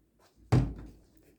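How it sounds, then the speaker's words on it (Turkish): A door is pushed shut with a single solid thud, close and fairly loud, its muffled tail fading over about half a second in an otherwise quiet room. "Ben kapıyı kapatmak istiyorum."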